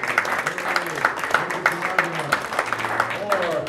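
A small group claps for Rhonda after her cake at a duo's final concert, scattered uneven hand claps with a voice talking over them.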